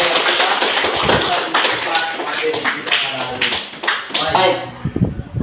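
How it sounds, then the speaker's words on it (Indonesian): Classroom audience of teaching students clapping, a scattered burst of hand claps in quick irregular rhythm, fairly close and loud, tapering off toward the end. "mari kita berikan aplaus kepada kita yang"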